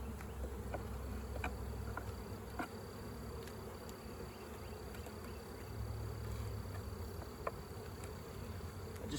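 Honeybees swarming around a hive, a dense, steady buzz of many wings that holds unbroken and fairly close throughout, with no voices.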